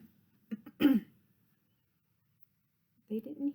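A storyteller reading a children's picture book aloud imitates a cough with a short, sharp burst followed by quiet, then resumes speaking.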